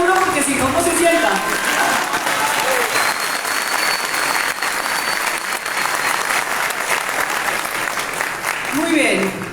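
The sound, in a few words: audience applauding at a book launch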